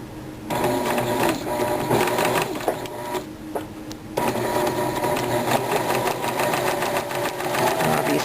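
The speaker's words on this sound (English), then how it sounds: "I'll be stitching the 1/4 inch seam allowance all the way up." A sewing machine runs a 1/4 inch seam on a one-cloth kaleidoscope quilt, a steady close rhythmic whirring chatter that stops briefly midway, then resumes and keeps stitching to the end.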